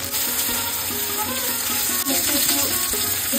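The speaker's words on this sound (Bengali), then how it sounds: "পেঁয়াজটা ভাজা হয়ে গেছে" Onions and garlic fry in hot oil in a wok, giving a dense, steady sizzle up close with light bubbling crackle and occasional stirring.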